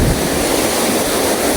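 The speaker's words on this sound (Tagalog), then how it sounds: "May alon-alon." Sea waves wash and slosh around a small fishing boat, a steady close hiss of water with wind noise on the microphone, brief and continuous.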